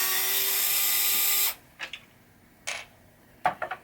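A power tool whirs steadily for over a second while backing giant screws out of a 1981 Williams Solar Fire pinball playfield, then stops, followed by a few short clicks and taps of metal parts nearby.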